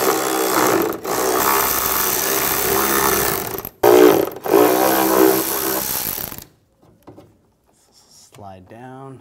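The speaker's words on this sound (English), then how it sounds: "take these two screws out, use a 10mm socket" A 10mm socket on a power driver backs out two screws on a 2009–2013 BMW 328i xDrive during leak detection pump replacement. Close, gritty whirring comes in bursts for about six seconds, then it goes quiet and a voice speaks briefly.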